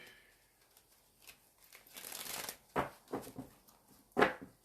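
A deck of tarot cards is shuffled close by, soft riffling bursts and sharp papery snaps in a few quick clusters, with quiet room tone and no speech.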